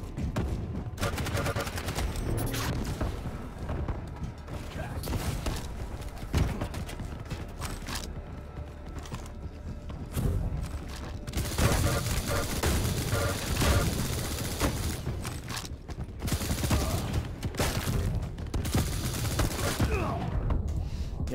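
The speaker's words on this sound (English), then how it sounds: "I feel like the machine gun doesn't really do very much." A machine gun in Quake fires in long, steady rattling bursts under ongoing game action and mechanical clanks, moderately loud with a voice talking over it at times.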